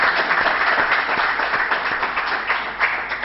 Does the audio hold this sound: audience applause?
yes